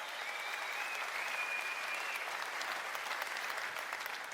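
A comedy gala audience in a hall applauds, a dense, steady wash of clapping held at an even level throughout, with no talk over it.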